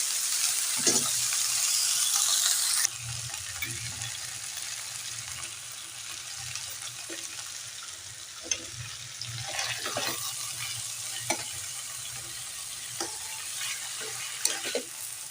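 Oil sizzles in a wok with an initial loud hiss that settles as bottle gourd greens steam and fry with salt and turmeric, followed by intermittent stirring and clinking of a spatula.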